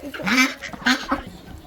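Ducks quack close by, a few raspy calls in quick succession, with faint background noise.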